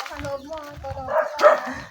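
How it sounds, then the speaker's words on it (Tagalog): Several dogs along a path to a grotto bark and yip close by, in short bursts mixed with talking voices. "Daming aso guys."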